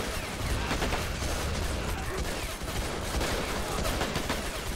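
Dense, continuous gunfire and explosions from the war video game Men of War, a roaring wash of overlapping shots with no clear gaps throughout.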